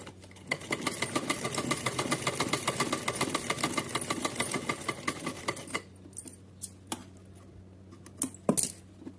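A sewing machine stitches fabric for a small deity dress, running in a quick, even rattling run for several seconds before stopping, followed by a few faint clicks and handling taps.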